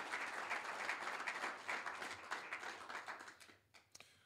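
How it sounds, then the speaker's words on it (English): A room full of people applauds students at a college idea pitch event, a dense steady clapping that carries on for several seconds before tapering off near the end. "please give a round of applause to our great students here at GRCC"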